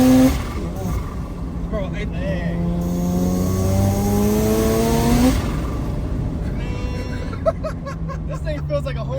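Rotary-engine Subaru BRZ accelerating hard under boost, its engine note climbing steadily in a loud rising sweep before cutting off at a shift, heard from inside the car with occupants talking and laughing.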